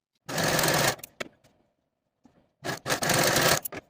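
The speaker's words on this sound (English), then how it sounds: "I'm going to serge both of these raw edges at the center separately." A serger overlocks the raw center-front edges of velvet bodice pieces in two fast, close bursts of dense whirring stitching, separated by a brief pause with small clicks and handling noises.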